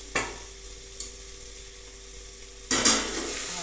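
A spoon stirs a brinjal and spinach curry in a frying pan: a few distinct scrapes and taps over a steady soft sizzle, with a louder stirring burst near the end.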